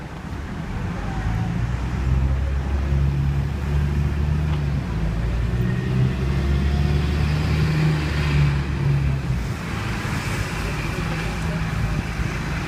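Road traffic passing on a straight street near the Novotel in Monte Carlo, a continuous low rumble of cars with gusty wind noise, moderately loud and steady, with people talking faintly in the background.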